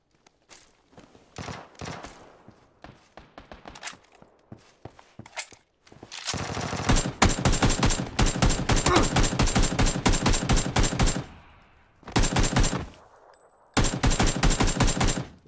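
Rapid bursts of automatic gunfire in the battle royale game PUBG, long continuous volleys of loud shots with short pauses between them, preceded by quieter scattered footsteps and shots.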